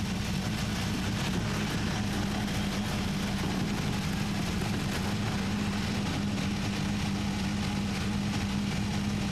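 IndyCar race car at the 2011 Texas Grand Prix, a steady loud engine drone with a strong low hum holding near-constant throughout, continuous broadband roar with no distinct gear changes.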